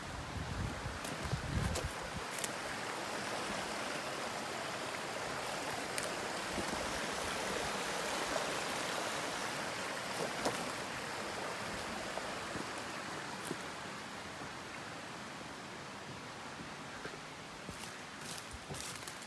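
A mountain stream in the Sierra Nevada flows in a steady, broad rushing wash of water that holds an even level throughout, with a few faint knocks and rustles close by.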